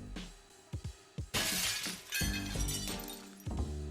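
A cinder block thrown at a window: glass shatters loudly in a sharp burst after a few dull thuds, followed by tinkling debris and clattering shards settling.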